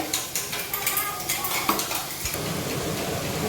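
Fried rice with soy sauce being stirred in a pan: a utensil scrapes and clatters against the metal in quick repeated strokes over a steady sizzle, close and moderately loud, with no talking.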